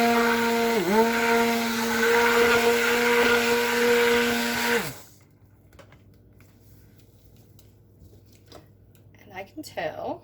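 A stick blender whirs loudly and steadily through cold process soap batter for about five seconds, its pitch dipping briefly, then cuts off, leaving faint clatter and quiet handling sounds.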